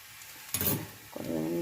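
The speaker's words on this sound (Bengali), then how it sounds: "পেঁয়াজটা ভেজে নিচ্ছি" Chopped onion hits hot oil in an old, heavy kadai (wok) and gives a short, loud sizzling burst. A quieter low sizzle follows, then a voice speaks near the end.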